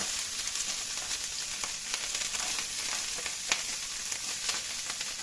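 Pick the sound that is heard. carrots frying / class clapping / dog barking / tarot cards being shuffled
carrots frying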